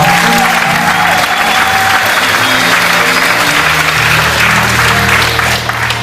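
A church congregation at an Easter Sunday service breaks into loud, sustained applause filling the room, with a faint voice underneath.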